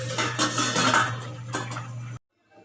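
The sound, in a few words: lid put back on pot steaming milkfish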